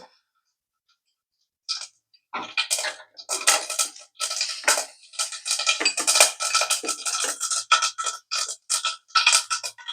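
Mustard seeds splutter and pop in hot oil in a pan while making a drumstick-leaf curry. After a silent start, close, sharp crackles begin sparse, then quicken into a dense, irregular patter.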